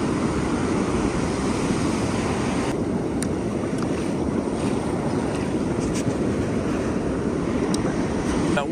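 Rough surf on an Oregon coast beach, a continuous roar of breaking waves with gusty wind buffeting the microphone, loud and unbroken from start to finish.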